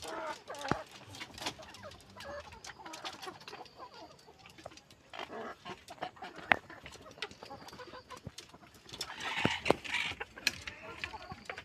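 Chickens cluck and call across a Faumi poultry farm in Jamalpur, with a busy, steady chatter of many birds and occasional louder squawks, faint voices mixed in.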